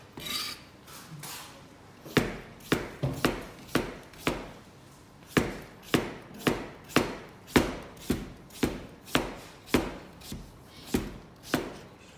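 A knife cutting through a large vegetable on a board, about twenty crisp, regular chops spaced roughly half a second apart, close and fairly quiet with no talk.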